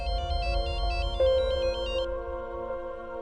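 A mobile phone rings with an incoming call, a bright electronic ringtone melody repeating steadily for a few seconds with no voices.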